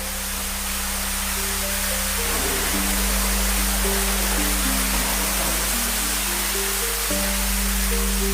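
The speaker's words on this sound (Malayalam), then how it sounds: "റൂമിന്റെ അകത്ത് തന്നെ പ്രൈവറ്റ് പൂളും ഉണ്ട്, അതോടൊപ്പം തന്നെ വെള്ളച്ചാട്ടം ഉണ്ടെന്നുള്ളതാണ്" Water splashes and rushes steadily from a waterfall beside a private pool in a Wayanad resort room, a dense continuous wash with a low steady hum underneath.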